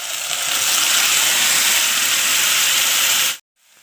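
Coriander paste hitting hot oil with browned garlic in a pan, a loud, steady sizzling hiss that holds for about three seconds and then cuts off abruptly, followed by a faint quieter sizzle.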